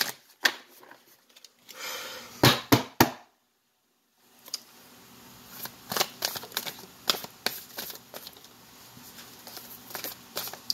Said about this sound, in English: One more shuffle for Virgo, please